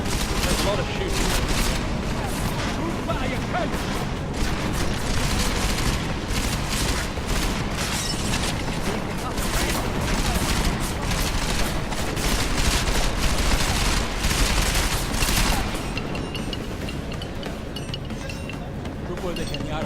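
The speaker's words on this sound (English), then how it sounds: "There's a lot of shooting." Sustained gunfire from the video game Deus Ex: Mankind Divided rattles in dense, overlapping bursts and booms with metallic clinks, continuous for most of the stretch, while speech comes through at times.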